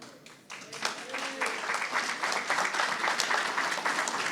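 An audience at a political event on decentralisation in Uruguay applauds, the clapping starting thin and swelling into steady, dense applause that continues to the end, with faint voices mixed in.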